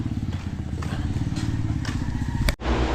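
A motorcycle idles with a close, steady putter and a rattly, thumping rhythm, then a clunk near the end as the engine note cuts and shifts while the bike is being parked.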